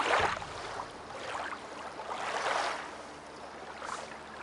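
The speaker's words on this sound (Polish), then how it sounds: "ten dźwięk wody jest tak głośny" Loud, steady water rush in the fantasy RPG Chronicles of Myrtana: Archolos, a continuous surf-like wash with gentle swells, heard alone with no talk over it.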